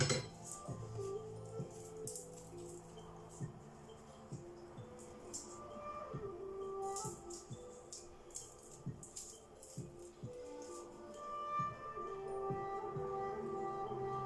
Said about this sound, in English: I'm going to start with the garlic, and I'm just going to chop it up